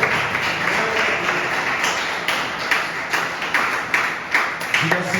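A church congregation claps along in the hall, a stream of sharp hand taps with a loose, uneven rhythm running throughout, fairly close and moderately loud, building a little toward the end.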